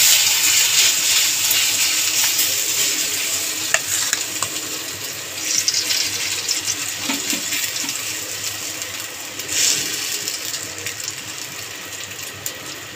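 Egg batter spread into hot white oil in a pan sends up a loud, continuous hissing sizzle that fades slightly over time, with a few stirring clatters partway through.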